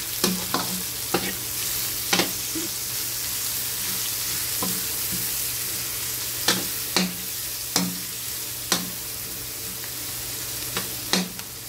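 Garlic frying in a pan for ginataang tilapia, a steady sizzle broken by repeated sharp scrapes and taps of a stirring utensil against the pan at irregular intervals.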